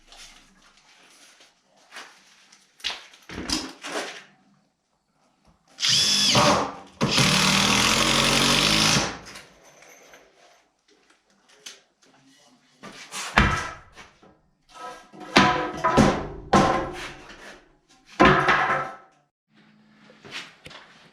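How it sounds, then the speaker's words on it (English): A power drill drives 3-inch construction screws through a joist into a header in several separate bursts, each a loud whir lasting a few seconds, with quiet pauses between them. "I'm gonna run 3-inch construction screws through the joist into the header"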